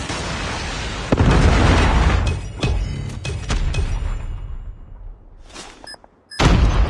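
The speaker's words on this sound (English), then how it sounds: "Predator missile inbound." A predator missile strike in Call of Duty Mobile, a sudden loud blast followed by a rolling rumble, several sharp secondary bursts and pops, a brief lull, then another heavy boom.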